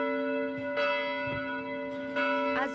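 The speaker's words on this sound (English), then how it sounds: "As church bells rang out in the city to commemorate the 100-year anniversary of the end of World War I" Church bells ring out in the city to mark the 100-year anniversary of the end of World War I, several resonant strikes with long sustained hum between them, loud and alone.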